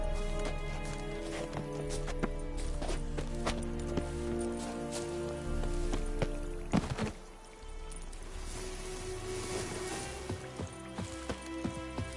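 Horse hooves clip-clopping in The Witcher 3: Wild Hunt, a steady trotting rhythm of close, distinct hoofbeats over layered game music and ambience, with a brief louder jolt midway.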